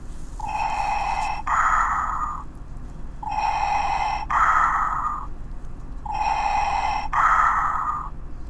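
A Darth Vader plush toy's talk button plays its mechanical breathing loop, three slow inhale-exhale cycles of hissing, filtered respiration, close and steady, with no talking over it.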